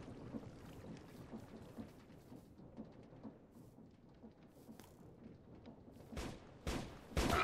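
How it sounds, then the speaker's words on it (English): Modded Minecraft gunfire in All The Mods 8: a dense, muffled rumbling bed of distant shots, then several louder, sharper bursts close in near the end. "Is someone else still shooting at me or something?"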